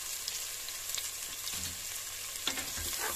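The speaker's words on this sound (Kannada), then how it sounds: "ಈರುಳ್ಳಿ ಚೆನ್ನಾಗಿ ಸ್ವಲ್ಪ ಕೆಂಪಾಗೋದು ಫ್ರೈ ಮಾಡಿ" Onions frying in a pan with a little salt for a hotel style mushroom biryani, a steady broadband sizzle with a few soft scrapes of stirring, heard alone without talk.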